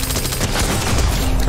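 Rapid gunfire in Fortnite rattles loud and continuous, a dense burst of overlapping shots filling the whole short stretch with no voices.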